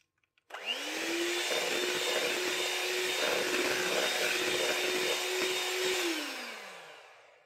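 An electric hand beater whirs into brownie batter as eggs are beaten in for a no-oven brownie recipe. The motor spins up sharply, holds a steady loud drone for about five seconds, then winds down, with no talking.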